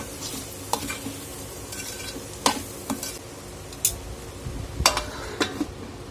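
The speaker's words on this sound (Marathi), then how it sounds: "आणि परत एकदा मिक्स करून घ्यायचं आहे आणि सगळं जिन्नस एकत्र असं छान परतवून घेणार आहोत" Kadavanchi vegetables sautéed with garam masala in a pan for a Solapur-style dry bhaji. A soft sizzle runs underneath while a spoon stirs and scrapes, with several sharp clinks against the pan.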